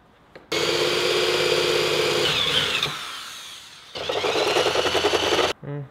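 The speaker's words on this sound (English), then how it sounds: "Now we're going to be drilling a hole for our bolt to go through." A power drill bores a hole through a plate for a bolt in a motor and transmission mount build, whining steadily in two close, loud bursts separated by a short pause.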